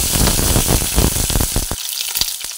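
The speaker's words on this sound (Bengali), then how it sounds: "পাঁচফোড়ন ভাজা হচ্ছে সেই সময় এর মধ্যে একটা তেজপাতাও দিয়ে দিলাম" Panch phoron spices and a bay leaf frying in hot oil, a loud close crackling sizzle with sharp pops that thins out toward the end.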